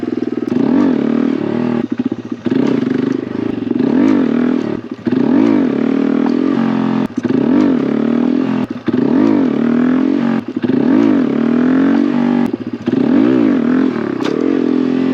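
Honda Grom motorcycle engine revving hard in repeated surges during wheelie attempts, each rise and drop in pitch close and loud, with some clattering and scraping between throttle bursts.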